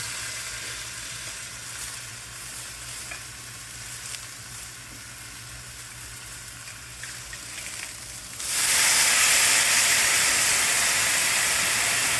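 Pork fries in a cast iron bowl over a burner, a close steady sizzle and hiss that swells suddenly louder and brighter near the end as steam bursts up.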